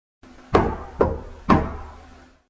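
Three more knocks on a door, evenly spaced dull thuds at close range, each trailing off briefly before the next, with nothing else heard around them.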